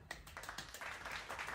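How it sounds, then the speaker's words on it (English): Hands clapping in a short, quiet round of applause, a quick string of soft light claps running for just over a second. "Round of applause."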